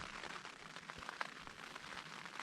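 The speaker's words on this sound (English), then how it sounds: "So as you can hear, it is currently raining" Steady patter of rain drumming on tent fabric at a mountain wild camp in the Lake District, a dense continuous hiss with occasional louder drops, close and even throughout.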